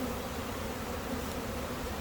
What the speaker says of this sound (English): Oh wait, there's a baby bee being born.